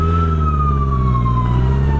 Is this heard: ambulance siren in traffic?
yes